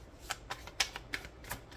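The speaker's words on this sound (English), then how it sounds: "And shuffle." Tarot cards shuffled by hand in a short run of crisp riffling flicks, about five quick bursts spaced evenly, close and fairly quiet with no voices.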